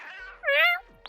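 A cat meows in the video game Gato Roboto, one drawn-out harmonic meow rising and falling for about a second, loud and close, with a short click at the end and no talking over it.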